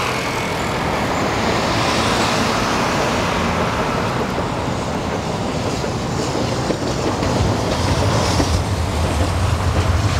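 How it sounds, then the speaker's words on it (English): Trains rolling through a city street in Hiroshima, Japan, a continuous loud rumble of rail cars mixed with road traffic noise, steady throughout with no talk. "These are the type of trains that they're gonna put in San Antonio."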